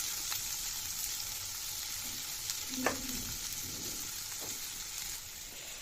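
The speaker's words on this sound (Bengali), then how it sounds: "এগুলো একটু ভাজা ভাজা হতে থাকুক।" Chopped onion, garlic and green chili frying in oil in a wok, a continuous close sizzle with a few light scrapes and taps of a spatula, no talking.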